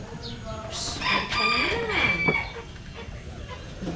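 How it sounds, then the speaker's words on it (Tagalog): A rooster crows once, loud and close, its call rising and falling over a couple of seconds amid light background noise. "Sino kasi mga manok yan?"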